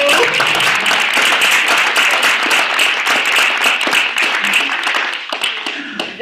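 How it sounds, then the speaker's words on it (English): Audience at an annual neighborhood residents' meeting breaks into loud, sustained applause, dense clapping filling the room and continuing for several seconds before starting to thin out near the end. "we're going to embarrass them by giving them a round of applause"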